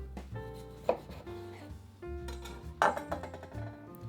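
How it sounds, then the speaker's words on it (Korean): Kitchen knife cutting a 1 kg slab of pork belly into four pieces on a board, two sharp chopping thuds among quieter slicing and rubbing sounds, close and unaccompanied by talk. "먼저 통삼겹살 1kg을 4등분 해주세요."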